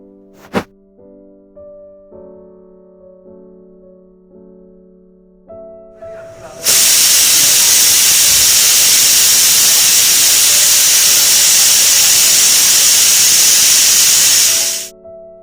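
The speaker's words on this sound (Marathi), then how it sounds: "आता हे कुकर लावून ठेवायचं आणि याला एक तीन शिट्ट्या करून घ्यायच्या" A pressure cooker lets out one long, loud hissing steam whistle lasting several seconds, after faint tonal background sounds.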